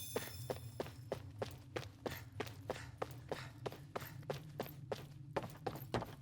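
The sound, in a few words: footsteps in underground passage in Tales of Arise video game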